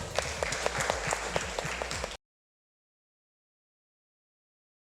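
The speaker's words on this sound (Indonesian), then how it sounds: "Kita rayakan secara bersama-sama dengan tepuk tangan" Audience clapping to celebrate together at a teachers' academic coaching supervision event, a dense steady burst of many hands for about two seconds, then abrupt silence.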